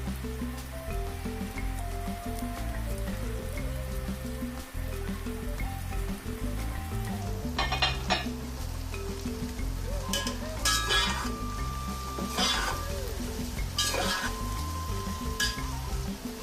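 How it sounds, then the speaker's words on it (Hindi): Cabbage and mixed vegetables stir-fry in a hot pan for Chinese-style fried rice, giving a steady sizzle with scraping and stirring bursts that grow busier in the second half, while music plays underneath. "बंद गोभी, सारी सब्जियां हमने अब इसके अंदर ऐड कर देनी है।"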